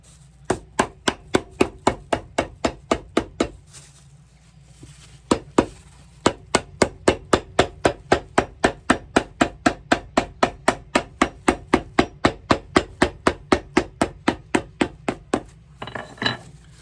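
A hammer strikes a shoe during repair work at a cobbler's bench, dozens of sharp, evenly spaced knocks in quick rhythm, close and loud, with a brief pause partway through.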